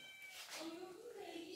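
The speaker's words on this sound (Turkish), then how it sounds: "kedisi niye mıyıklıyor?" A house cat meows in a kitchen, one drawn-out, fairly faint cry with a rising-then-falling pitch, heard close and alone against light room noise.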